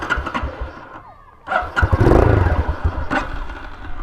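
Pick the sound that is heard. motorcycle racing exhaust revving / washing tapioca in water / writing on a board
motorcycle racing exhaust revving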